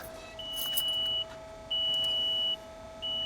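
A VW Amarok sounds a repeated electronic warning beep, three sustained tones with short gaps, over a low steady hum, fairly clear and close.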